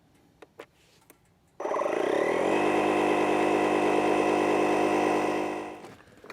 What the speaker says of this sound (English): you'll hear that the compressor actually runs slower for these low pressure tires